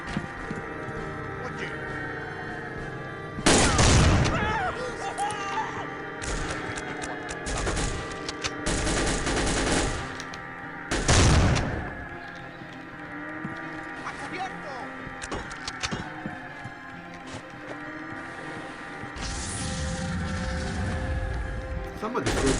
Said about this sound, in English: Somebody threw a grenade.